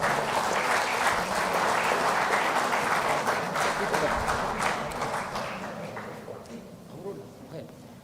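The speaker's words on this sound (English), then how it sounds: "let's welcome Mr. Senthil Nathan with a round of applause" An audience at an association's annual general meeting applauds as a speaker takes the stage, a full, steady round of clapping that holds for several seconds and then gradually fades away.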